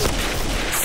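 A bomb explodes in the first-person shooter game Point Blank: a brief, loud, heavy boom with a dense rumbling burst that fills under a second.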